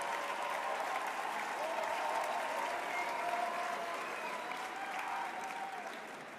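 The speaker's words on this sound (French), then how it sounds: "sous un tonnerre d'applaudissements, Dario Scopo et Miguel," A theatre-style audience gives sustained, dense applause before an evening church service talk, steady and loud across the whole stretch and tapering slightly at the end.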